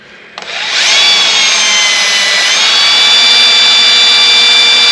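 A drill fitted with Milwaukee cobalt bits bores into rusty metal on a 2002 Ford F350, a sharp whine starting abruptly and holding loud and steady for several seconds, close by.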